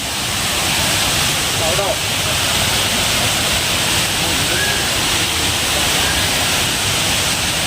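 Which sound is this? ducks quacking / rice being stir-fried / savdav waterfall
savdav waterfall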